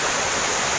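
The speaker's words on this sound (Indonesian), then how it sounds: "air terjun Batu Sela" Steady, loud rush of water from the Batu Sela waterfall in the Cianjur mountains, heard up close as a dense broadband roar with no break, no voices over it.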